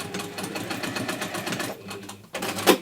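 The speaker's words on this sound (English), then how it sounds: "we're going to stitch down on those marks before they change, before they disappear from the warmth" A sewing machine stitches down the marks on a magnetic bookmark, running in a steady, close buzzing burst that pauses, then ends with a short louder clatter.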